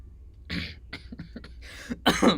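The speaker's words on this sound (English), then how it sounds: "Clear your throat." A single throat clearing, close and fairly loud, made of a few rough bursts with a harsher, louder rasp at the end.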